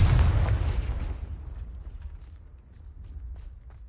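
A Confringo fire-blast spell explodes in Hogwarts Legacy on PS4 in hard mode: a heavy, loud boom up front that rolls off into a long, fading rumble with scattered faint crackles.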